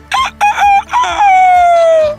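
A human voice imitates a rooster's crow: a few short calls followed by a long, drawn-out cock-a-doodle-doo, loud and close.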